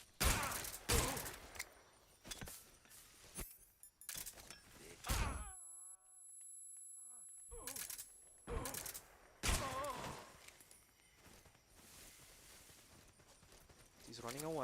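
Gunfire and a stun grenade in Metal Gear Solid from the Master Collection: a series of sharp, loud shots and bangs in clusters, broken by a brief quiet stretch with electronic chirps, while someone talks over the action.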